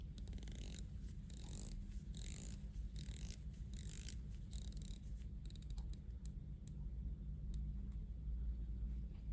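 Tag Heuer Aquaracer 300M dive watch bezel turned through a run of small, quick ratcheting clicks, close and fairly quiet, in short bursts over a steady low background hum.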